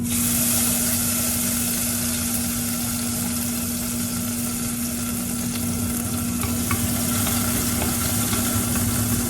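Garlic and tomato fry in hot oil in a pan, giving a continuous dense sizzle with a faint steady hum beneath it. The frying sounds close and fairly loud throughout, with no talking.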